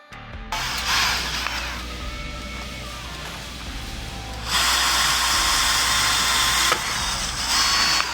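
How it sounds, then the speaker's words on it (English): Rivets being drilled out of a front shackle on a Can-Am Maverick R side-by-side, heard as a loud steady whining drill that runs continuously and rises in intensity partway through. "To remove this shackle, you'll have to drill the rivets to be able to remove the bolt"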